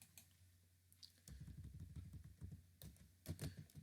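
Quick bursts of keystrokes are heard as Python code is typed on a computer keyboard, close and fairly quiet, with light irregular clicks after a short pause.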